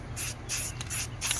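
Short hissing bursts of spray paint lay a light brown base coat onto metal climbing sticks, four quick passes in a steady rhythm, close and fairly loud.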